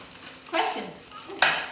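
A hand whisk scraping and clinking against a bowl while cream is whipped, two quick metallic strokes close by, fairly quiet, with no one speaking over them.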